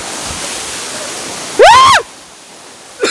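Benarayi waterfall rushes in a steady, loud roar of falling water close by. A short, loud, voice-like tonal cry cuts in midway, and the roar returns with a brief burst at the end.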